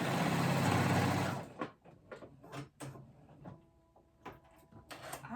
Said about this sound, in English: Now I'm gonna go ahead and sew them on just like I did my other straps.